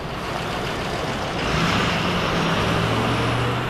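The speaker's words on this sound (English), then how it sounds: "that's this truck" A truck rolls past on the road, a broad, loud rumble of engine and tire noise that swells and holds as it draws close alongside a car, with no voices.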